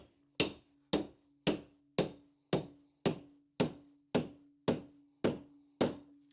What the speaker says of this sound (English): take your carpet tucker and your hammer, and now I want you to bang that in